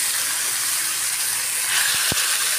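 Soy sauce and black pepper marinated chicken for afritada hisses steadily as it goes into a hot pan, a close, even steam hiss with a couple of short knocks near the end.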